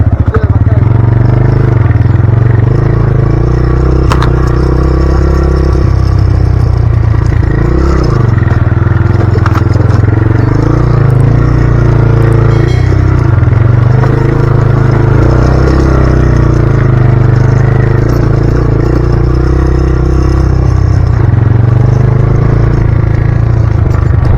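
A motorcycle engine drones loud and close during a bike ride on a rough road in Sylhet, with steady low rumble, rattling and wind noise throughout.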